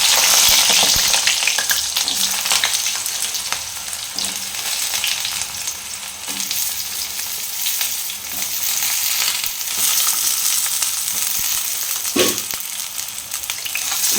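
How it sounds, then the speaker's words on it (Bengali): Eggplant frying in a pan for a neem-leaf potato and eggplant dish, a steady dense sizzle running loud and close throughout with occasional stirring scrapes, no voices. "বেগুনটা আমাকে একটু ভেজে নিতে হবে।"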